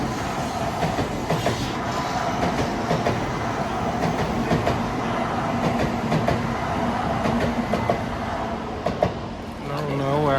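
A Japanese Shinkansen bullet train, a Nozomi service, runs past, giving a continuous loud rushing rumble with rhythmic rail clicks and whooshes throughout before a brief different tone near the end.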